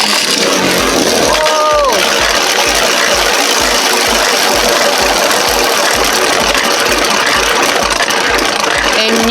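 Beyblade Burst Variant Lucifer top spinning hard after a launch from its new launcher, a loud steady whirring grind with rapid low rattling pulses throughout, while a voice briefly exclaims.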